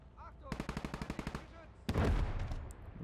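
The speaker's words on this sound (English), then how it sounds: "Here's some gunshots here." Gunfire from the World War II game Gates of Hell, likely pistol shots from a crewman near a forest trench: a rapid string of about a dozen sharp cracks, then a louder burst of heavy fire.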